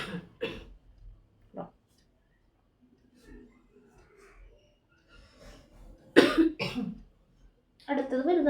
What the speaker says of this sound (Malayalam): ഈ തുണിയുടെയൊക്കെ പൊടി കാരണം അലർജിയുടെ ചുമയാണ് കേട്ടോ.